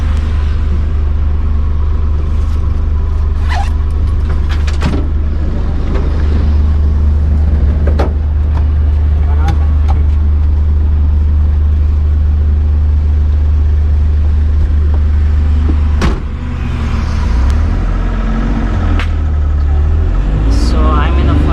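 An Ashok Leyland Dost LS light truck on a test drive, heard from inside the cab: a loud, steady low engine rumble and road drone throughout, with occasional knocks and rattles and a brief dip near the end.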